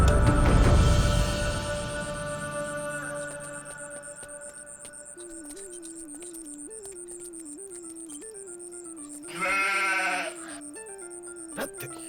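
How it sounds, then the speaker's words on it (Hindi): A goat bleats in a loud wavering cry in a dubbed Hindi action film scene, starting around the ninth second over a sustained musical drone with a bouncing melody and a tonal background hum. "बकरी की चिल्लाने की आवाज आ रही है।"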